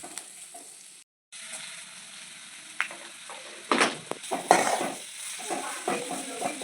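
Onions fry in a pan during late-night hostel cooking, a soft sizzle broken by a brief gap, then louder bursts of stirring and spatula scrapes against the pan.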